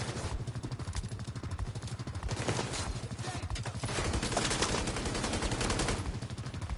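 Heavy enemy gunfire in The Division 2 rattles on continuously in dense automatic bursts, loud and close throughout with no pauses, and no voices are heard over it.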